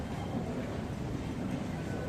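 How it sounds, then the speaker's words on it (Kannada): A Hong Kong MTR metro train rumbles steadily underground in Central, a continuous low roar of wheels and motors with no breaks, fairly loud and close. "metro train"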